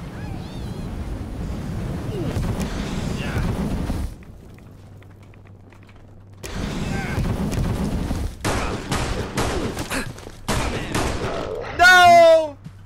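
Gunfire in the video game Fallout London, with a burst of rapid shots and several louder single cracks mixed with rumbling ambience, a quieter lull in the middle, and a voice talking throughout.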